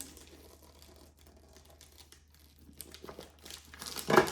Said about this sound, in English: with a little tape, fold this under, tape it secure